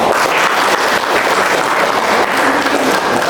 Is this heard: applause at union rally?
yes